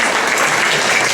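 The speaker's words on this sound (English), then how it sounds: "Yes, please, clap for the motherhood" Brief burst of dense audience clapping at a church retirement party, loud and steady throughout with no voices.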